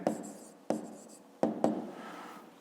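A pen scratches across paper in short bursts of close, quick strokes, with brief pauses between them, as names and figures for a fifth-grade math exercise are written down; no voices.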